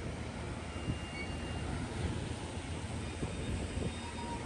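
Amtrak train 281 departs with P42 locomotive 88 leading, producing a steady broad rumble and roar that holds evenly throughout, heard from moderate distance with no talking.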